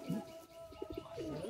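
Madrasi high-flying pigeons kept in a loft's cells coo softly nearby, low rolling throaty calls repeating in a gentle, uneven rhythm against a quiet background.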